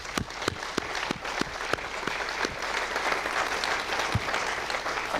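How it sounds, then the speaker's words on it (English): Audience applause at an Arianespace Vega rocket launch event, starting as sharp separate claps near the front and swelling into a steady, moderately loud ovation, with no talking on top. "je vais vous demander d'applaudir, parce qu'il faut applaudir pour Frascati"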